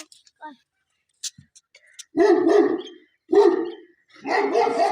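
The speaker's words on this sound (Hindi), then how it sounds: "भौंकने की आवाज चेक करो भाई, मुझे डर लग रहा है।" Three bursts of dog barking in a village, loud and close, each a rapid cluster of barks separated by short pauses, with faint ticking sounds before them.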